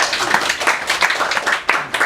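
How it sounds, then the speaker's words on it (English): A live audience claps together in a short, dense burst of applause right after a speaker is introduced at a microfinance talk, the clapping close and steady with no voices over it. "Let us now welcome him with a big round of applause."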